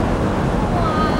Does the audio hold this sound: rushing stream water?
yes